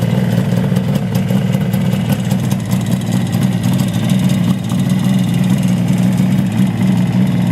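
A 1975 Kawasaki 500 H1 motorcycle engine idles continuously at about 1400 RPM, a low even rumble with no revving, close and loud throughout.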